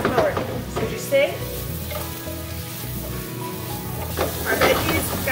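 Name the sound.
vegetables sautéing in a pan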